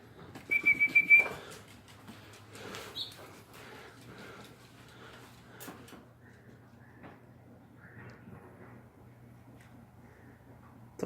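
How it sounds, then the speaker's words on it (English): A bird trapped inside a house gives a short, bright whistling call near the start, followed by quieter rustling and fluttering in the room. "This poor thing's trying to get out."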